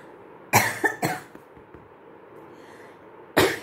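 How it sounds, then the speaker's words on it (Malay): A quick cluster of three sharp coughs, a short quiet pause, then one more forceful cough close to the microphone. "Terbatuk pula."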